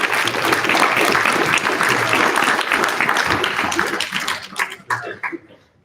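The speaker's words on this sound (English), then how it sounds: "Please give a big applause to Nicolas" A conference audience at a zero-knowledge cryptography event in Paris breaks into loud, dense applause that holds steady for several seconds, then thins out and fades to quiet.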